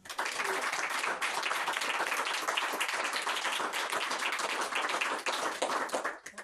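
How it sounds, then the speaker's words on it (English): A literary festival audience gives a crime-writing panel a round of applause: dense, sustained clapping from many hands, loud and even, running without a break until it tapers at the end. "Would you like to join me in giving a round of applause to our panel?"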